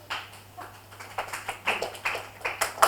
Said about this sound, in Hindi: जोरदार कर कल ध्वनि और तालियों की गड़गड़ाहट के साथ में दोस्तों स्वागत किया जाए